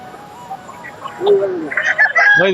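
Native breed chickens at a village market cluck and squawk close by, several short calls rising to louder overlapping cackles toward the end, with faint human voices mixed in.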